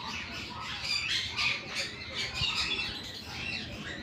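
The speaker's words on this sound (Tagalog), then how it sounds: "Daming ibon dyan sa kabila, oh. Daming ibon." Many birds squawk and chirp together in a busy, continuous chorus, with repeated sharp calls rising over a steady background hum.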